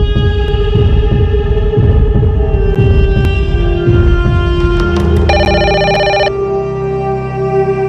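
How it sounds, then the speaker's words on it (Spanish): A home telephone rings loudly in repeated electronic trills over a low steady hum, ending with a brief higher tone burst before fading to quieter background. "Miguel Morales contesta el teléfono de su casa y en ese instante recibe la nefasta noticia"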